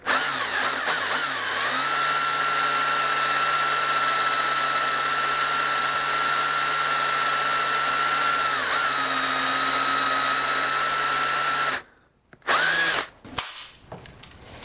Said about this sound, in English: I'm just going to drill down about 1/2 inch.